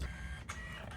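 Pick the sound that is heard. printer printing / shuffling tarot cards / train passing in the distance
printer printing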